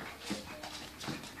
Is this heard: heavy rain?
no